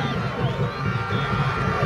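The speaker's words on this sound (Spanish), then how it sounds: "recibiendo a las atletas de Escazú con un solemne aplauso" A crowd at a women's football match in Escazú applauds and cheers the Escazú athletes, a steady, dense wash of clapping and voices filling the whole stretch.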